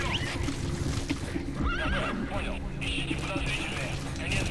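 A horse neighs in the video game Metal Gear Solid 5, a wavering whinny rising out of busy game sound and loud hoof clip-clops, with someone talking over it.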